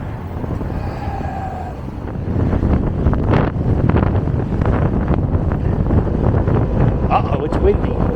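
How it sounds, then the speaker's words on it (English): Gusty wind buffets the microphone outdoors on a humid city street, a steady low rumble that strengthens after the first couple of seconds and holds loud throughout. "Uh-oh, it's windy."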